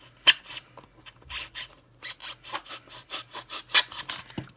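A small X-Acto knife carves into a Dollar Tree craft pumpkin, giving close, scratchy sawing strokes in an uneven rhythm of short bursts with brief pauses between.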